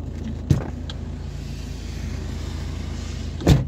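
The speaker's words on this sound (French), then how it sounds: "C'est drôle le bruit, cette voiture." A car heard in rainy weather, a steady low engine rumble with two brief bumps, close by, and no one talking.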